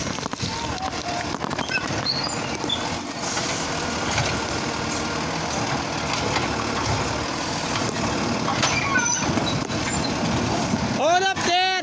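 A garbage truck rumbles through a residential neighborhood, its engine drone steady and fairly close, with brief squeals and mechanical whines near the end, while people talk over it.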